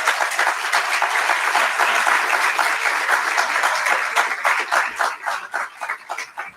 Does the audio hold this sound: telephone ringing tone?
no